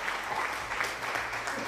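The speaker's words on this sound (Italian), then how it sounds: "era un bellissimo applauso di fine." Applause from an audience at the close of a university engineering talk, a dense, even clatter of many hands sustained throughout the short stretch.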